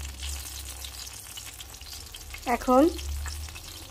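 Pointed gourd fries in a pan with a soft, steady sizzle close up, briefly interrupted by a short spoken word partway through.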